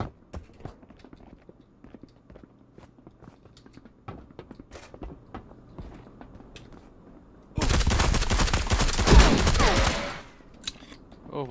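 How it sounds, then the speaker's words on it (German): In the video game Marauders, sparse clicks and steps lead into a sudden loud burst of rapid gunfire lasting a couple of seconds, then quieter shuffling returns. "Und Schüsse."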